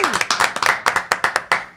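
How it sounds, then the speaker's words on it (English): Scattered hand clapping from a conference audience at a legal technology show, with sharp, irregular claps over about two seconds and no sustained cheering. "can we give a quick cheer, shout out for Adriana Linares, this year's chair?"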